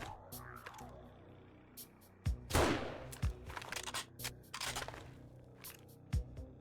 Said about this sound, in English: why was there an explosion over there?